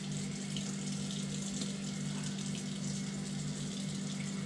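Tap water runs steadily into a sink during the cleaning of a squirrel, a continuous close splashing hiss with a low hum beneath it.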